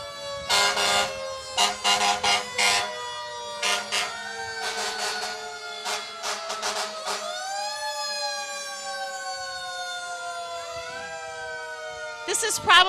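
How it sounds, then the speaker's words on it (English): Fire engine sirens wail and sweep up and down at the Lombard Lilac Parade, with bursts of loud horn blasts early on, then a long rising siren tone carrying over distant crowd noise. "This is probably the only time in Lombard where you hear these sirens"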